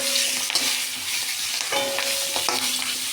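A spoon stirs fried potatoes and green chilies in a hot pan, steady sizzling with a few scraping strokes over about three seconds, close and without talk.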